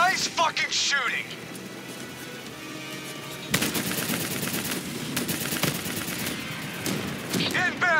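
Heavy automatic gunfire in the Call of Duty Black Ops 3 campaign, with sustained bursts rattling over an engine rumble, and shouted voices breaking in at the start and end.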